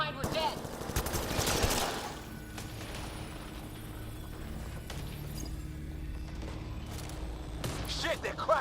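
Enemy gunfire in the video game Mass Effect Andromeda: a dense burst of automatic fire at the start, then scattered faint shots over a low background hum, the whole mix quiet and distant.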